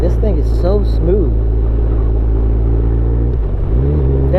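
A Kawasaki motorcycle downshifts while riding, its engine note rising and falling in quick revving swoops before settling into a steady low drone, close and loud beneath wind rumble.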